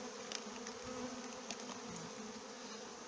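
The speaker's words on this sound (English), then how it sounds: "So there's a nice frame of bees." Honeybees buzz steadily on a hive frame during colony combining, a dense continuous drone held close and alone with no voices.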